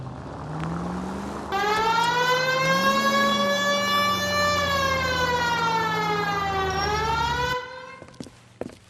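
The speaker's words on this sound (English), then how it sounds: "Hit the siren" In the L.A. Noire Remastered video game, a police car siren wails in a long rising and falling tone for about six seconds over a low engine rumble, then cuts off sharply.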